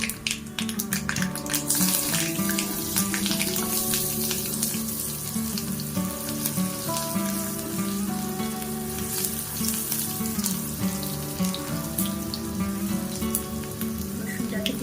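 Garlic fries in a pan with a loud, continuous sizzle, mixed with a tonal background hum and faint scattered ticks throughout.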